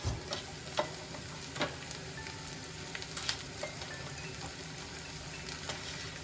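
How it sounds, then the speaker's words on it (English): Garlic and ginger fry in hot oil on a high flame for home-style chilli chicken, a steady close sizzle broken by occasional ticks and spoon stirs, with no talking. "So yeah, I'm gonna fry these garlic and the ginger."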